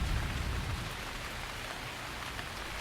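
Steady rain falls in a continuous, even hiss with a slightly heavier low rumble at the start, close and fairly loud, with no voices present.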